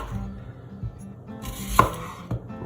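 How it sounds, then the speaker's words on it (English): Knife cutting the four sides off an apple to core it on a cutting board, a handful of soft slicing thuds followed by a sharper knock as the blade meets the board, close and quiet. "You do that by cutting off 4 sides"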